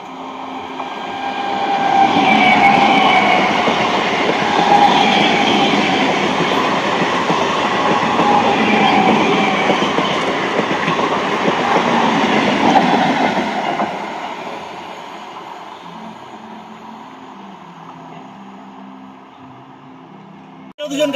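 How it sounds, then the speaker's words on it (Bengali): A train on the Howrah–Katwa line runs through crop fields in rural Bengal on a foggy morning, a loud, steady rumble with rail clatter and a brief wheel squeal that holds for about fourteen seconds, then fades to quiet. "আজকে আপনাদেরকে ট্রেন দেখাচ্ছি পুরো গ্রাম বাংলা থেকে, শস্য ক্ষেতের মধ্যে দিয়ে।"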